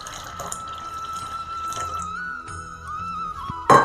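Water pours from a mixer jar into batter, a steady trickling stream ending in a brief louder splash.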